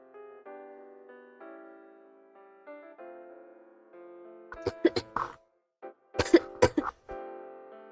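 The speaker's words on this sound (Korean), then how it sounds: "진짜 기침 개 나올 것 같거든요?" Several short harsh coughs in a quick cluster, then another burst of coughing, close and loud over a soft sustained musical tone, no talk.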